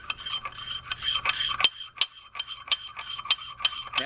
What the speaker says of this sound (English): we're going to put it in a mortar and pestle, and we're going to grind it up